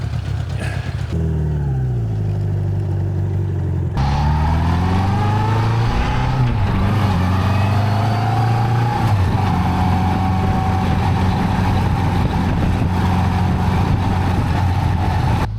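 A 1985 Honda GoldWing motorcycle engine revs and pulls away, its steady drone rising and falling in pitch as the bike accelerates close by, continuous throughout with no talking.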